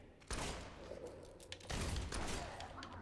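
Gunshots in the action game Fable 3 go off as two sharp, close reports about a second apart, each trailed by a short rumbling tail, with faint talk in the background.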